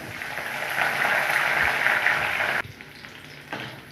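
Mustard seeds, garlic and curry leaves frying in hot oil make a loud, steady sizzle for a few seconds, then it drops suddenly to a quieter crackle.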